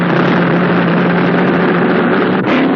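A 1,500 horsepower drag racing engine at the 1970 NHRA U.S. Nationals gives a loud, steady, heavy low rumble that holds constant throughout, with a brief dip and shift in tone near the end.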